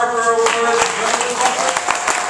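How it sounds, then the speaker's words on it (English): Audience applause at an annual meeting and awards dinner, greeting the recipient of the Chuck Harper Award: steady dense clapping from a seated crowd, near and fairly loud, with a voice faintly present underneath. "Please give a round of applause to this year's recipient of the Chuck Harper"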